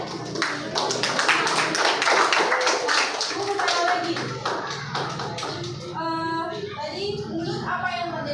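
Students in a classroom clap for a classmate, a dense burst of hand claps over the first few seconds. Voices carry under the clapping, then speech takes over as the claps thin out.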